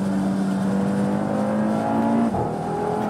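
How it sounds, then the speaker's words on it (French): Audi TT RS engine dropping into second gear on a straight, a steady loud engine drone whose pitch steps up sharply near the end as the revs climb after the downshift. "Et là, la 2 qui descend en pleine ligne droite."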